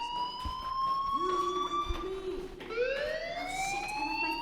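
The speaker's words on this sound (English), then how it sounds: "do you hear that fire alarm?" A fire alarm sounds in Life is Strange, a loud wailing electronic tone that sweeps in pitch, dips briefly and then rises again, with low background thumps underneath.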